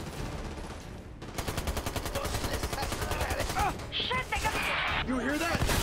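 Heavy sustained gunfire in Army of Two: The Devil's Cartel, rapid automatic bursts hammering nearly continuously for several seconds with impacts and mechanical clatter mixed in, loud and close.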